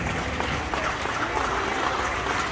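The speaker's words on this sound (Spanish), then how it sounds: "Aplauso para las personas que todavía nos quedan aquí" Audience in a village gathering in Abasolo del Valle, Veracruz, claps in a dense, even patter with a voice speaking over it.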